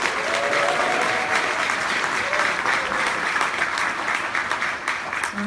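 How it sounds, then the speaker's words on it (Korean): A lecture audience gives a long, even round of applause after a talk on a fair society by Lee Jae-myung. The clapping is dense and sustained throughout, with no one speaking over it. "다시 한번 큰 박수 부탁드리겠습니다"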